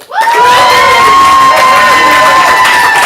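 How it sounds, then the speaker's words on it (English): Comedy improv audience bursts into loud applause and cheering for the red team, a sudden full roar of clapping, whooping and high-pitched shouting that holds steady close by. "And now applaud for the red team."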